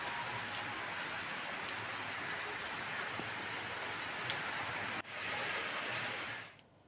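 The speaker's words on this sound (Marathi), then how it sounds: "तिथे मोठ्या प्रमाणात पाऊस सुरू झालाय।" Heavy rain pours in Roha, Raigad district, a dense, steady hiss of falling water that holds constant, breaks for a moment, then carries on before fading out at the end.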